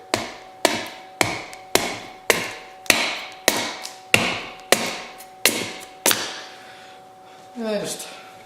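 A Schrade SCHF9 survival knife chops dry wood in about a dozen sharp, evenly spaced strikes, loud and close, each with a short ringing decay, followed by a softer scraping sound.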